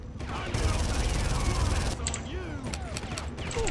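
Far Cry video game gunfire, a dense sustained rattle of rapid shots running across the clip, with booming low rumble and scattered mechanical clicks and whistles mixed in.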